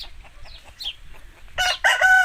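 A one-time-winner aseel fighting rooster held in hand clucks softly a few times, then lets out a loud, close crow that fills the last second.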